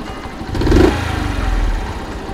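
A Honda Super Cub AA01 engine idles close by with a steady, rapid putter, briefly swelling in volume before settling back to an even chug.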